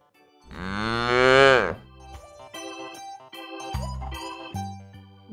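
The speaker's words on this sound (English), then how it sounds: "C for cow." A cow moos once, long and loud with a rising then falling tone, followed by a short musical jingle.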